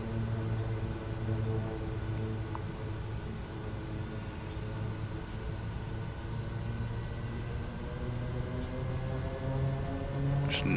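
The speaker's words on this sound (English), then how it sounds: "We're going to go to full power." An XCub light aircraft engine runs at full power in a flight simulator game, a steady droning hum with a sustained tonal buzz, even and continuous throughout with no talk.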